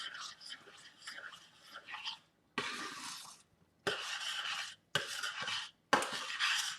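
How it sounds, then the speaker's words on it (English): Diced tomatoes and mushrooms are stirred in a pan, a series of scraping, rustling bursts separated by short pauses, close and moderately quiet. "I'm going to stir that in"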